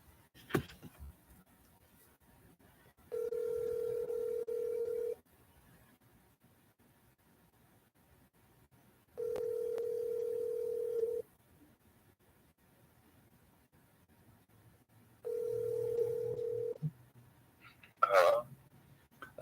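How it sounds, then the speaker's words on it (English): A telephone call rings out with three long, even ringback tones separated by silent gaps over a faint line hiss, followed by a brief click and noise at the end. "What does it sound like when I call Ben Beardsley's number?"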